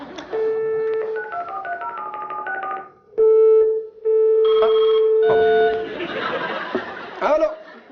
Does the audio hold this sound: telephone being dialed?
yes